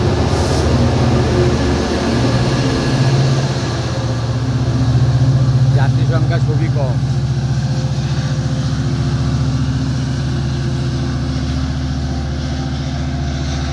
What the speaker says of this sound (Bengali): এইমাত্র ট্রেনটি রওনা হলো।